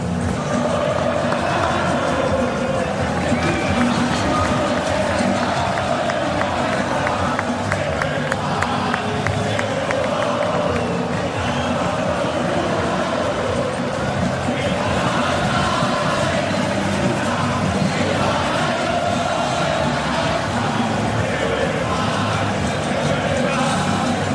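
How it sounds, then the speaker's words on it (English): A large football stadium crowd roars steadily for the Argentina team during a match against Switzerland, a dense wall of cheering, chanting and clapping that stays loud and unbroken throughout. "Have a little watch and a listen to this crowd responding to that Argentina team on the pitch."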